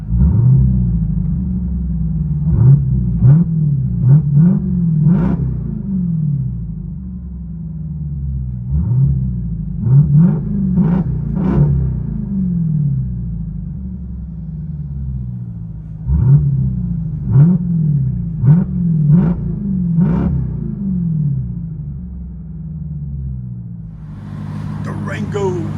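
Deep V8 rumble from a 2023 Dodge Durango SRT Hellcat, 6.2L with straight pipes, heard from inside the cabin: a steady low drone broken by repeated sharp revs and blips, with talk over it.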